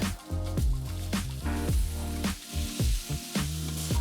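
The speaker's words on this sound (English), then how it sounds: "In a pan, add some sesame oil, your onion and steak." Onion and steak frying in sesame oil in a pan, a close sizzle punctuated by frequent clanks and scrapes of a utensil tossing the food, with the hiss rising and falling.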